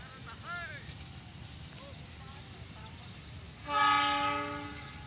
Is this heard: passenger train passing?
yes